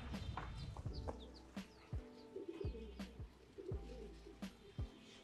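Pigeons after a bath give repeated low coos and soft calls, close by, with scattered rustling and brief knocks in between; no one speaks.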